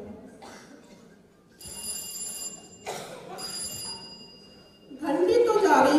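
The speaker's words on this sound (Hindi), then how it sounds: "घंटी तो जा रही है बहुत देर से, लेकिन कोई उठा ही नहीं रहा।" An old-style telephone bell rings in two bursts separated by a pause, fairly faint, followed by a louder rumble of noise near the end.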